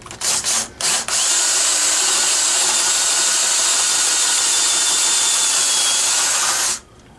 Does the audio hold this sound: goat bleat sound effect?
no